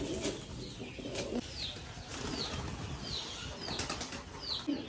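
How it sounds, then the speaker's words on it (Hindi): Pigeons flap their wings in repeated bursts of fluttering, with soft coos and bird calls in a quiet outdoor setting. "सारे कबूतर निकाल दिए हैं"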